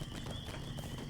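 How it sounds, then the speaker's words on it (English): Horse hooves clip-clop in a steady, rapid rhythm in the online game The Lord of the Rings Online, loud and continuous over in-game background ambience. "just watching this horse ride me around on screen for a while"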